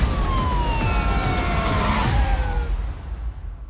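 Police car sirens wailing during a pursuit, several overlapping sweeping tones, loud and close at first, then dropping in pitch and fading away as the cars pass into the distance.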